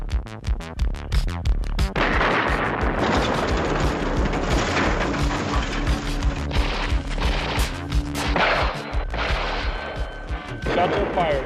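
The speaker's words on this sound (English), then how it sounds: "Shots are fired." Rapid bursts of gunfire crack and boom in a vintage action film, loud and close, with overlapping shots, crashes and shouted voices mixed into the chaotic exchange.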